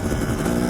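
A dirt bike engine on a mountain ride near Idaho City buzzes under short throttle blips, a brief loud close rasp with slight rising revs.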